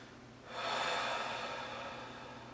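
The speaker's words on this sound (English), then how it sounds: "Breathe." A long, steady breath drawn in and let out during a meditation exercise, a soft airy rush that swells quickly, holds, then slowly fades, close and alone without any talk.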